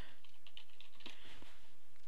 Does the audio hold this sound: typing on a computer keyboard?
yes